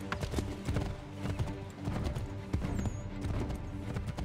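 In the Assassin's Creed 3 video game, horse hooves clop in a steady, continuous rhythm at moderate loudness, with a faint neigh partway through.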